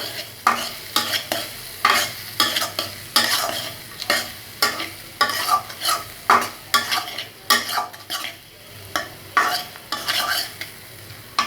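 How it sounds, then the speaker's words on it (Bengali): Spices being stirred in a cooking pan, a brisk repeated scraping rhythm of spoon strokes about twice a second over a low background sizzle. "এখন হালকা হালকা করে নেড়ে দেবেন"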